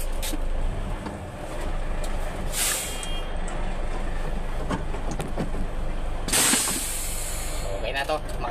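Air brakes on a Mitsubishi Super ten-wheeler truck release two loud, sharp hisses a few seconds apart over an idling engine, with someone talking nearby.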